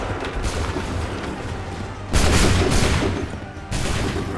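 Musket volleys in Assassin's Creed III Remastered make a dense, crackling roar of gunfire that swells loudly partway through and then continues, a thick wash of battlefield noise with no voices.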